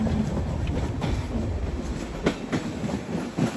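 A train on the Visakhapatnam to Araku route rumbles steadily through turns, with a continuous close rolling roar and a few sharper clacks from the wheels over the rails.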